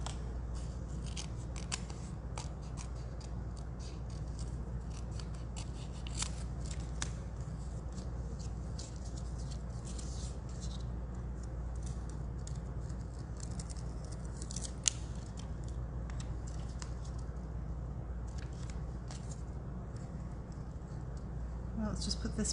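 Scissors snip out pieces of paper for a butterfly rolodex card, crisp irregular cutting clicks repeating close up over a steady low hum.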